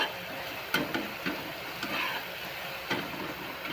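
Tomatoes tipped into a pan of onions frying until red, giving a steady sizzle with a few sharp stirring clicks and scrapes, close and fairly quiet, no talk.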